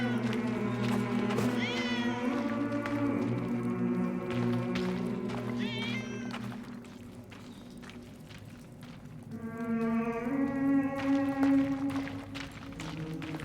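A cat meows several times in the World War I video game 11-11 Memories Retold, short drawn-out cries over a steady bed of game music and ambience.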